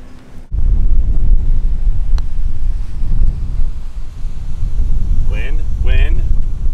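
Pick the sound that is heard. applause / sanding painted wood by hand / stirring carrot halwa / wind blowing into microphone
wind blowing into microphone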